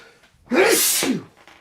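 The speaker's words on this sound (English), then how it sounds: "And I feel myself about to sneeze." A single loud sneeze with a sharp intake of breath first, then a forceful burst, close by and alone.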